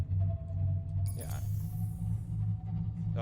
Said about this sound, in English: that was the sound of one of our power cells running low